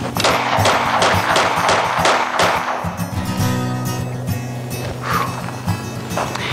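A SAR9 pistol fires a rapid string of sharp, loud shots in quick succession, then a few more spaced reports follow outdoors.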